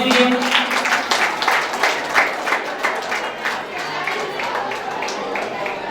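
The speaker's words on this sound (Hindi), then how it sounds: "इसके लिए आपको जोरदार ताली से स्वागत कर दीजिए" A school audience claps for an award presentation, sustained crowd applause with dense overlapping hand claps that stays loud throughout, mixed with some voices.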